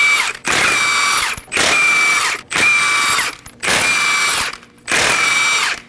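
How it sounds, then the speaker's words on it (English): A power tool with a 21mm socket spins lug nuts off the front wheel of a 2017-2024 Nissan Armada, five loud whirring bursts, each about a second long, separated by short pauses. "Using a 21mm socket, we're going to go ahead and remove the lug nuts."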